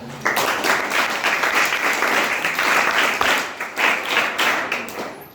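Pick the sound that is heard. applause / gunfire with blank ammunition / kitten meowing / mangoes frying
applause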